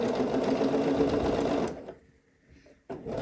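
Sewing machine understitching bias tape around a dress bodice neckline, a steady fast run of needle clatter for over a second, then stopping abruptly, with a short restart at the end; close and alone.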